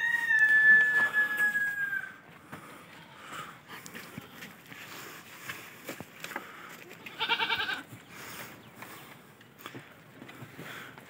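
Tappri goats give one short, nasal bleat midway, after a rooster crows loudly at the start; quiet farmyard shuffling fills the rest.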